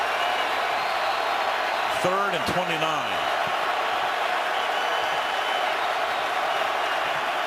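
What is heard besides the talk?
stadium crowd roaring at an NFL game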